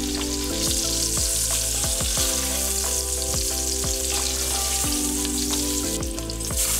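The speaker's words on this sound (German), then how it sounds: "Bratet sie leicht, bis sie gebräunt sind." Small waxy, pre-cooked potatoes for aloo dum fry loudly and close in a pan, with a dense continuous sizzle. Tonal hum and short knocks from stirring run through it.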